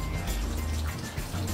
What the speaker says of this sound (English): you're going to take your water and you're going to put it in your dish